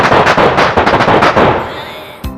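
A fireworks firecracker goes off as a loud, rapid string of crackling bangs close by, then quickly fades into a short rumble.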